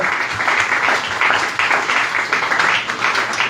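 A church congregation applauds in praise of Jesus, a loud, sustained burst of many hands clapping in a slightly pulsing rhythm, with faint voices mixed in.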